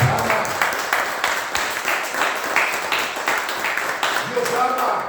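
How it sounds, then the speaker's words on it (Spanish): A church congregation applauds during a sermon, rhythmic clapping in a reverberant hall with a preacher's voice speaking loudly over it throughout. "Denle un aplauso al Señor."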